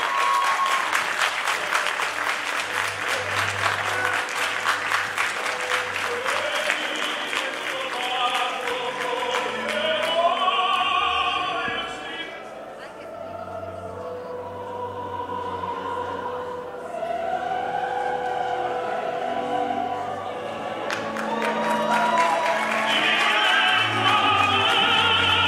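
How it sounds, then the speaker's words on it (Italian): Audience applause at a bodybuilding contest as an overall winner is announced, steady clapping throughout with music or a low hum underneath, briefly dipping midway before swelling again. "con l'applauso"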